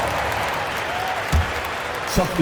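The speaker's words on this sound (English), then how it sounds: "Give yourself a round of applause." Arena crowd applause and cheering from an NBA 2K25 basketball game featuring the Rockets, a steady broadband roar with a couple of brief thumps and a voice speaking over it.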